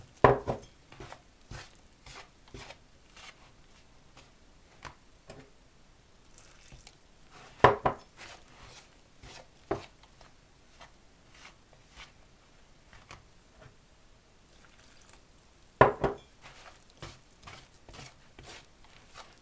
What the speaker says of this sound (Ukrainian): І теж ложкою вимішую.